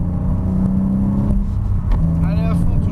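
A car at full throttle on a race circuit revs and pulls hard, a steady low roar rising in pitch under a voice talking over it.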